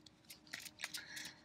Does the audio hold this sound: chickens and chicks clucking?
no